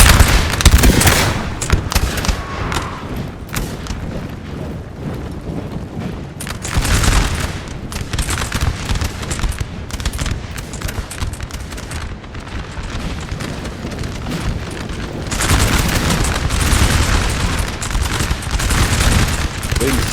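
Massed musket volleys crackle in a Napoleon Total War multiplayer battle, dense rolling fusillades with booming shots layered over one another, loud and continuous for the whole stretch.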